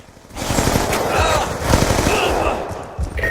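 Rapid bursts of video game gunfire crackle over a short stretch, dense and loud, with a voice talking over the shots.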